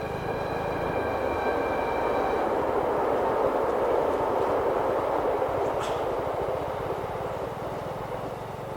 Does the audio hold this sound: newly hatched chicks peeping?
no